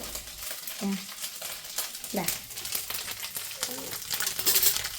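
A spoon stirs soybean roast in a frying pan, scraping and clinking over a steady sizzle, close and continuous, while a voice speaks briefly now and then.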